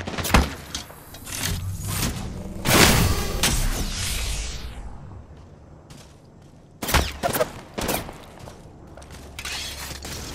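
Gunfire in the video game Apex Legends, several loud bursts of rapid shots with sharp cracks and mechanical clatter, separated by short pauses and a quieter stretch in the middle.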